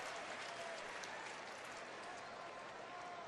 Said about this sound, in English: And the crowd reacting to a nice catch up there.